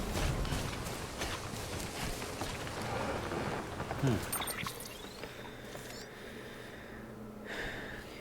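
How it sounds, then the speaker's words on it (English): Steady heavy rain hisses in the video game Death Stranding for about four seconds, with a brief low rumble, before the downpour stops and leaves a quieter, windy ambience. "so the rain stops, I don't have to worry"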